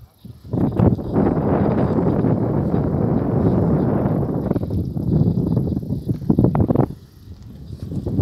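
Wind buffets the microphone outdoors at Chapada Diamantina near a river, a loud, continuous low rumble that lasts most of the clip and then drops off toward the end.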